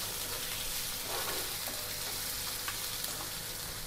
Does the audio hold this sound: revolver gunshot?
no